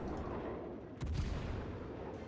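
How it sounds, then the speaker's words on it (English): Naval guns of the cruiser Des Moines firing in the naval combat game World of Warships, muffled booming shots with a sharp, heavier blast partway through, set against a steady low rumble of background battle noise. "I just want to keep my guns firing until this game ends"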